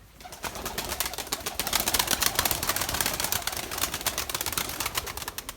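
Young Erzurum white pigeons make a dense, busy stream of soft coos mixed with rapid fluttering and clattering, building in loudness and continuing throughout.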